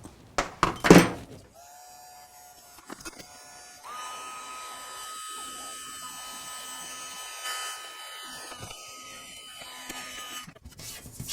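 A heat gun warming a saw guiderail's plastic splinterguard starts up after a few clunks and handling knocks, then runs as a steady, fairly quiet whine and blowing hum without speech.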